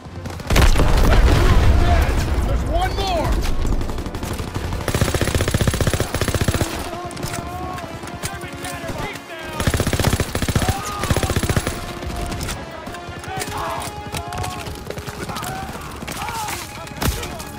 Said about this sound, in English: That PaK 38 still has a gunner! It's firing on our pack!